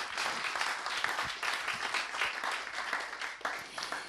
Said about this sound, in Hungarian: kérek szépen egy nagy tapsot hangmérnök kollégánknak